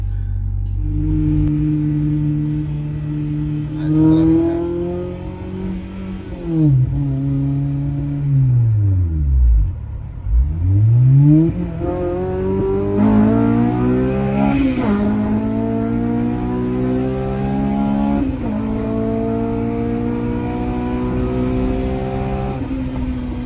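A Honda Civic with a swapped K24 engine revs and accelerates hard, its pitch climbing through repeated pulls and gear changes, loud and close with a rising, raspy tone and no talking.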